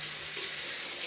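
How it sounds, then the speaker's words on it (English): Hands rinsed under a running kitchen tap after cracking eggs, a steady close rush of water splashing with no talking. "I'm going to rinse my hands."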